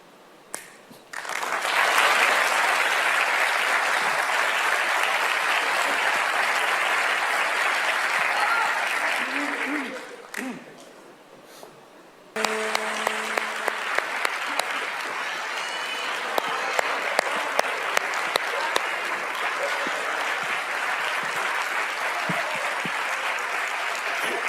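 A TV studio audience applauds an Italian singer, loud sustained clapping that fades out, then resumes after a brief lull with sharp accented claps and some crowd voices.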